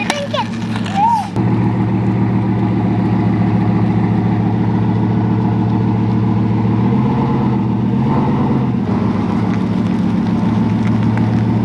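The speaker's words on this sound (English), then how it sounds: "that was the longest it's ever taken me to get a car turned around in the driveway" Bugatti idling and creeping as it is turned around in a driveway, a steady low engine drone with a brief revving swell near the end, loud and close throughout.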